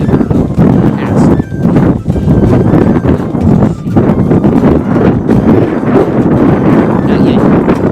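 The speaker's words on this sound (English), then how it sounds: "Wait until the wind stops. Because if I throw it in the wind right now, it's just gonna glide." Strong wind blows outdoors across an open field during atlatl throwing, loud buffeting gusts roaring against the microphone almost without a break, covering everything else.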